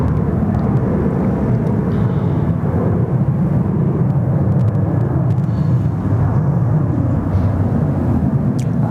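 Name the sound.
Jetstar A321neo airliner on short final at Sydney Airport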